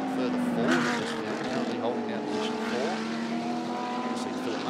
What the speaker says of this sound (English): car go past, so clearly they got the number 98 Absolute Racing Audi back on track